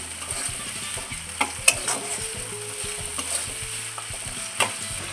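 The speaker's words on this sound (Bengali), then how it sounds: "পেঁয়াজটা ভালো করে লালচে করে ভেজে নেব এর সাথে।" Onions frying in a pan for a Bengali chicken and potato curry, a steady sizzle with stirring clicks and scrapes, close and fairly quiet, with no voices.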